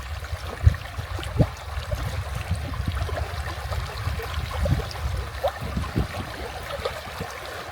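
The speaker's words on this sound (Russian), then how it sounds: "Чувствуете, как звук воды постепенно замедляет мысли?" River water flows steadily along a nature trail in Latvia, a soft continuous rush with small splashes and trickles close by, and no talking.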